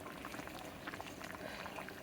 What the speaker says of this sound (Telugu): సొరకాయ ముక్కలు కొద్దిగా ఉడకాలి.